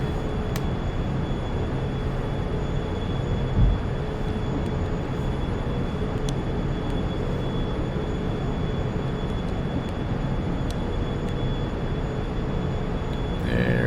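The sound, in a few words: airplane engine climbing after takeoff, flight simulator video game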